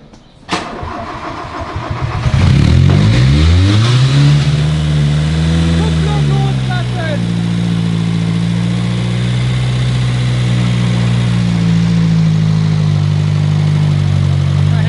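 A car with Cola and Mentos in place of coolant starts up, roars into loud revving and then holds a rough, wavering drone as it reverses, close and dominant, with people talking over it.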